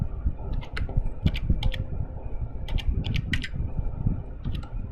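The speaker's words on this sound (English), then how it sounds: "I wasn't typing where I thought I was." Fingers type on a computer keyboard during a statistics lecture, with irregular bursts of clicky keystrokes over a steady low hum, close and moderately loud.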